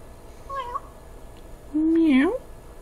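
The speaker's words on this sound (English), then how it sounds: "Follow Cat around the palace until she falls asleep in a sunbeam." A cat in the game Reigns Her Majesty gives two short meows: a faint, brief one first, then a louder, drawn-out meow whose pitch bends upward at the end, over quiet background.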